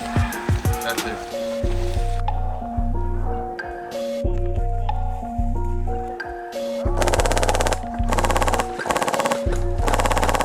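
Bursts of airsoft gun fire during an outdoor airsoft assault game, rapid strings of shots in several loud volleys with pauses between, while players shout and talk over the shooting.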